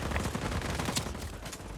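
Dense rapid gunfire in a video game rattles on continuously for under two seconds, loud and close, with no talking over it.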